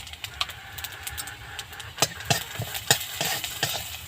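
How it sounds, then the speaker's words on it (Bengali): Whole coriander seeds hit hot oil in a kadai, giving a close, lively sizzle with sharp crackling pops scattered irregularly over a few seconds. "তেলের মধ্যে দিয়ে দিলাম গোটা ধনিয়া।"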